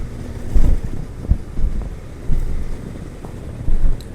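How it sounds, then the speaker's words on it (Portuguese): A cold, cutting wind blows across a mountain dirt road near Bom Jardim da Serra in Brazil, buffeting the microphone with low, rumbling gusts that surge in several loud bursts. "um vento cortante aqui"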